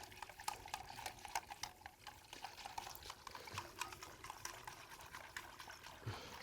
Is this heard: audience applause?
no